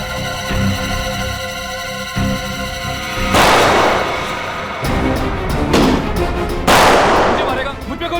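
Gunfire in a tense crime-drama confrontation: loud broadband blasts erupt around the three-, five- and seven-second marks, with a crackling burst between them, over a dramatic musical score.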